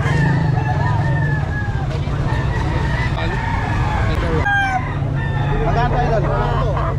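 Roosters crow amid other fowl clucking at a Filipino chicken seller's place, the calls rising over a constant low engine-like drone while people talk nearby.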